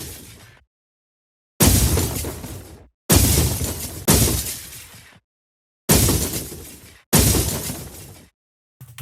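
Debris effect designed with granular synthesis in Phaseplant: six loud, separate bursts of shattering, crumbling crashes, each hitting hard and then decaying over about a second, with short silences between them.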